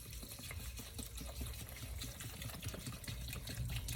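Bottled water is poured over sea moss in a container, a continuous gurgling, splashing trickle, quiet but close, with no talking.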